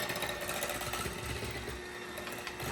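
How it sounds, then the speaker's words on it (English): A handheld mixer whirring steadily through pumpkin bread batter, a continuous close motor buzz with no breaks. "I'm using my handheld mixer."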